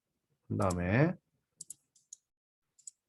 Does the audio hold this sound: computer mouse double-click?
yes